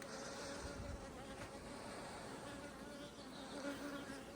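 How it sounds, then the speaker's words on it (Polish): A dense, steady buzzing of many honeybees swarming close by around a hive, continuous throughout with no voices. "pszczoły jednak z przyzwyczajenia dalej przylatują"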